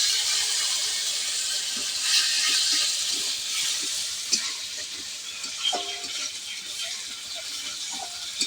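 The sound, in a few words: spice paste (masala) frying in a pan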